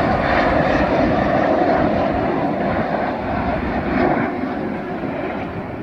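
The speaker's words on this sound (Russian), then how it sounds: "У нас тут самолеты разлетались, поэтому шумно." Airplanes flying overhead above a garden and vineyard make a loud, broad roaring drone that fills the whole stretch and eases slightly toward the end.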